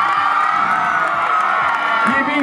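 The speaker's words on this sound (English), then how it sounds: "Give yourselves a massive cheer!" Spectators at a trial bike show sending up a loud, sustained cheer with whoops and shouting voices mixed in, the din holding steady from start to finish.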